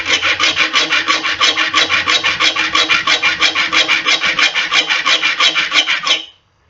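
A hand saw's teeth sharpened with a file, about thirty quick, even back-and-forth rasping strokes, loud and close, ending abruptly in silence with no talking.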